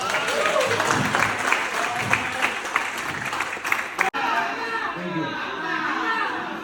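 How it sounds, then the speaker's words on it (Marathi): Loud, dense applause from an audience cheering four friends at a reunion gathering, sustained clapping with crowd chatter, a brief cut near the end, then continued clapping. "मला वाटतं या 4 मित्रांसाठी जोरदार टाळ्या होत्या"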